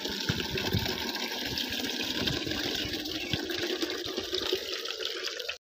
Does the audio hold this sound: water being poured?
yes